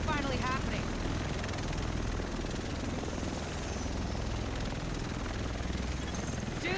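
A helicopter arrives in the video game The Division, its steady loud rotor whir filling the scene continuously from start to finish.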